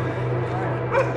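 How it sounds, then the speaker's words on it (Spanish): A dog barks and yips amid noisy outdoor sound, with a louder bark burst near the end of the short moment; voices are present around it. "¡Uy, perro!"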